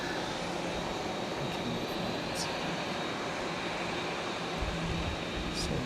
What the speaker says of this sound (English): So this aircraft is Hong Kong Airlines, and obviously it's coming in from Hong Kong.